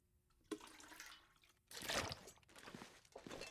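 Drinking water in The Long Dark survival video game: a quiet, close liquid gulping and sloshing effect with a soft onset, a louder swell in the middle and watery trickles that fade toward the end, with no talk.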